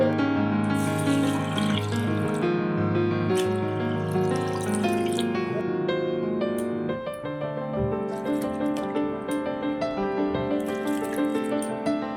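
Tap water runs steadily into a vessel of rice being washed, splashing and gurgling with a brief break midway, close and continuous.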